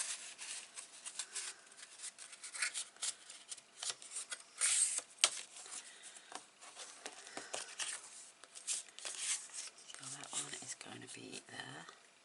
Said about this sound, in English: So fold those and burnish.